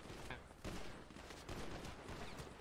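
Gunfire in GTA V: a sustained burst of shots with a few sharper cracks standing out, dense and fairly loud throughout.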